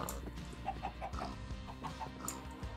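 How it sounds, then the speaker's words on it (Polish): Chickens clucking in Minecraft, a run of soft, repeated short clucks spread over a few seconds under a steady game and music background, fairly quiet, no talking. "I co wy za kurczaki jesteście?"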